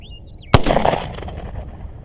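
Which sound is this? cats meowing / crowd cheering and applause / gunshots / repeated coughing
gunshots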